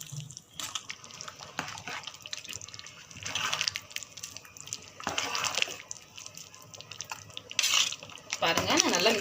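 Boiled rice being mixed into mutton biryani in a pot, with scraping, clattering spoon-on-metal strokes and soft stirring, moderately close, in irregular bursts that grow busier toward the end.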